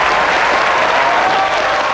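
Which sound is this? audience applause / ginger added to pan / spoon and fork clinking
audience applause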